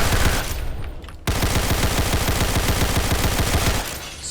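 Rapid automatic gunfire from a Roblox war game, a dense steady burst of repeated shots after a brief pause, loud and continuous.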